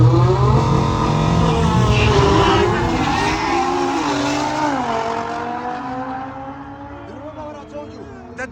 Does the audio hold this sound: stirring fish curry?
no